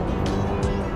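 A 2019 Honda Civic petrol engine roars at high revs near the top end, a loud, dense and sustained mechanical racket in a short burst.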